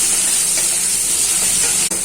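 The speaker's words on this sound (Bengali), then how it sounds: "এই মাছটা ছেড়ে দিই, এবার মাছটাকে ভাজবো।" Fish fries in a wok over potatoes and black cumin tempering for a Bengali fish curry, a loud, continuous close sizzle and hiss that barely changes throughout.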